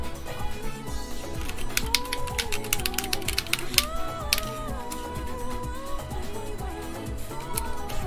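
Rapid clacking keystrokes on a tray-mount mechanical keyboard with a carbon fiber plate, sharp close clicks clustered mid-clip, partly buried under steady tonal background music.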